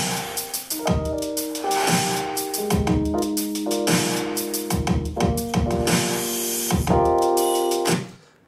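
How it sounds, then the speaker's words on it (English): Dry electric piano chords recorded over a programmed drum beat, the chords struck in a regular repeating pattern with punchy drum hits, played alone and close before the sound cuts off at the end. "I actually have some electric piano I recorded."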